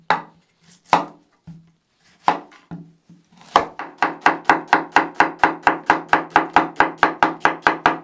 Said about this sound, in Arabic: هلأ بدنا نقشرهم وبدنا نفرمهم شرحات